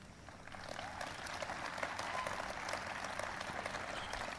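A large crowd at the 2020 Republican National Convention applauds steadily and loudly throughout, a dense wash of clapping with faint cheers mixed in, heard from within a big hall.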